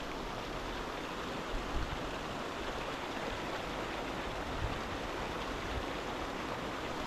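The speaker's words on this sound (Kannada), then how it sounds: "ಇವಾಗ ನೋಡಿ ನೀರು ತುಂಬ ತುಂಬಿ ತುಂಬಿ ತುಂಬಿ ಹರಿತಾ ಇದೆ ನೋಡಿ" Water flows full and fast through the Sir M. Visvesvaraya irrigation canal in Mandya, fed by the Cauvery, making a steady unbroken rushing roar that stays even and continuous, heard alone.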